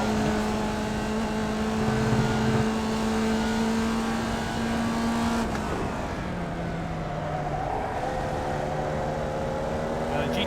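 A Formula Vee race car in iRacing at Oran Park hums with a steady, loud engine drone that shifts pitch through gear changes, while someone talks over it.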